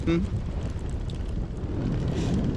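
Wind buffets the microphone with a constant low rumble and roar for the whole stretch, outdoors on a cycling trip in the Netherlands.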